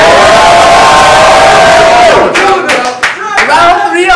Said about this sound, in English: Everyone makes a motherfucking noise.